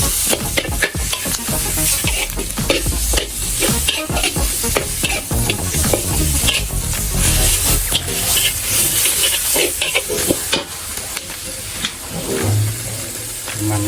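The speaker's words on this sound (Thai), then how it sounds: "พริกลงไปผัดเลยครับ ผัดให้หอมเลยนะครับ" Chili paste is stir-fried in a hot pan for a spicy frog stir fry, with loud continuous sizzling broken by repeated scraping, clattering strokes of a spatula close by.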